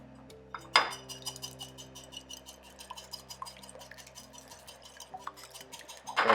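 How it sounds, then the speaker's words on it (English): Eggs beaten with a whisk in a bowl for chocolate peanut butter cup French toast, quick metallic clinks and taps against the dish over a low steady hum, with a sharper clatter near the start and end. "you're going to beat that with a whisk"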